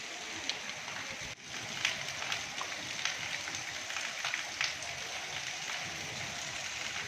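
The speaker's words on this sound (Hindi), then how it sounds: "छोटा सा हल्ला आया बारिश का और पानी पानी कर गया" Rain falling outdoors in Gujranwala, a steady dense hiss of drops pattering on surfaces with occasional sharper splats, moderately loud and continuous, with no talk over it.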